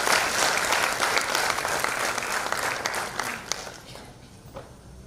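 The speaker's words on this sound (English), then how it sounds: "a big round of applause for the organization" Conference audience at an international inclusivity event bursts into applause, a full, even clapping that swells briefly and then tapers off over about five seconds, leaving scattered claps.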